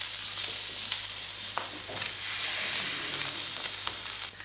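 Corned beef hash with a tablespoon of chopped parsley being stirred in a hot frying pan, a steady close sizzle with soft scraping and stirring, no talking.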